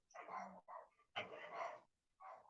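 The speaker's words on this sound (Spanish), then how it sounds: "Espera, hay una pelea de perros ahí." Dogs barking in a scuffle, rough overlapping barks and yips in quick bursts, faint and distant.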